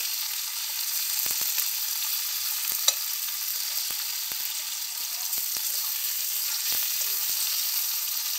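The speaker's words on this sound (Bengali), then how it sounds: "এটাকে একটু ভেজে নেব।" Tomatoes frying in a pan with potatoes and onions, a steady bright sizzle with occasional soft clicks and scrapes of stirring, close and continuous with no talking.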